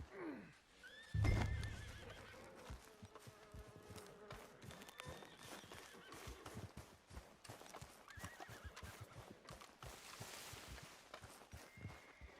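A horse in the video game Red Dead Redemption 2 gives a loud whinny near the start, followed by steady clip-clop hoofbeats and soft ambient buzzing with no talk.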